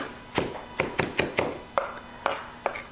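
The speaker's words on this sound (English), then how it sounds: "now we're gonna chop up 2 tablespoons of fresh flat leaf parsley" Fresh flat leaf parsley being chopped with a knife on a board, crisp distinct taps in an irregular rhythm, close and fairly quiet with no talking.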